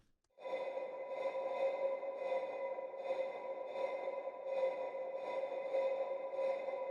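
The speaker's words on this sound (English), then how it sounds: "Really cowbell sound. But we're gonna add a huge reverb on top." A cowbell-like metallic tone struck repeatedly in a steady rhythm, each hit washed into a long reverberant sustain that fills the space continuously.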